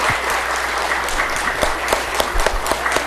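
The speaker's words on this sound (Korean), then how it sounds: "우리 박수." Church congregation applauding after a solo vocal performance at a Sunday service, a sustained patter of many hands clapping in a reverberant hall, fairly even and moderately loud.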